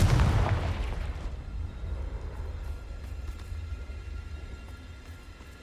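The Confringo spell from Hogwarts Legacy blasts in one loud, deep explosion at the start, then fades into a long, low rumbling tail that dies away slowly.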